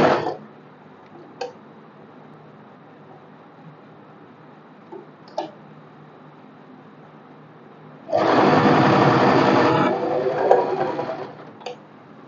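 A sewing machine stitches the seam of an umbrella frock with a half-inch allowance, running in one loud, steady burst of a few seconds after a stretch of quiet clicks and handling.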